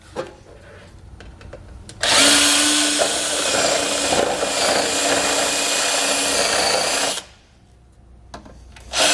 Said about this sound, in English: we're going to use those as guides to drill out a small hole